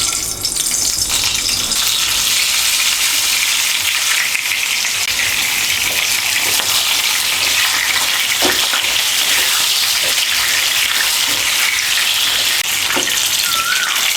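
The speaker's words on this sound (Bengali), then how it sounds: "এর মধ্যে আমি নুন হলুদ মাখিয়ে পটলগুলো ভেজে নেব।" Pointed gourd coated in salt and turmeric fries in hot oil with a loud, dense, unbroken sizzle and hiss that holds steady for the whole stretch, with no talking.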